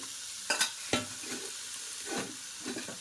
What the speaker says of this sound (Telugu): ఇప్పుడు ఇదైతే ఆయిల్ అయితే మరుగుతుంది కదండి బాగా సో ఇందులోని ఈ ప్రాన్స్ అన్నీ వేసేసుకుందామండి